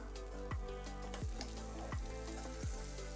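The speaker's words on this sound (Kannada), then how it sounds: "ಇವಾಗ ಚೆನ್ನಾಗಿ ಫ್ರೈ ಆಗಿದೆ, ಅದಕ್ಕೆಲ್ಲ ತರಕಾರಿಗಳನ್ನ ಹಾಕ್ಕೊಳ್ಳೋಣ." Beans, peas, carrots and potatoes sizzle and fry in a pan for rice bath, a steady crackling hiss broken by four regular scraping stirs.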